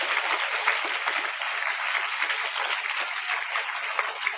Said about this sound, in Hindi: उमंग के लिए एक बार जोरदार तालियां बजा दो भाई